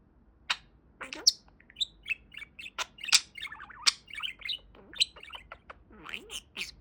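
A pet budgie parakeet chirps and tweets in quick, bright bursts, a string of short calls and warbles close by, with scattered pauses between them.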